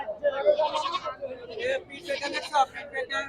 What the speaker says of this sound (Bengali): এগুলো ভেড়া এবং তার সাথে কিন্তু কিছু পাঠা পাওয়া যায় এই দেখেন পাঠা